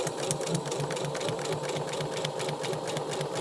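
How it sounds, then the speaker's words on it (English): A sewing machine stitches a straight seam for paper piecing, its rapid, even needle clatter and motor hum running continuously up close without pause or speech. "But now you're just going to sew straight down that line."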